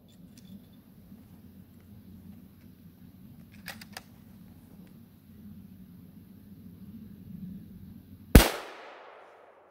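A single 7mm Rem Mag rifle shot firing 120 grain ammunition over a chronograph cracks loudly near the end and rings out in a decaying tail, after several seconds of quiet low outdoor rumble.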